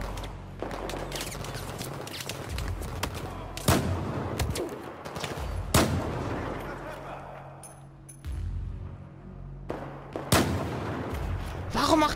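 Gunfire in the video game Battlefield 4: several loud, sharp shots at irregular intervals over a busy battlefield background, with a voice heard at times.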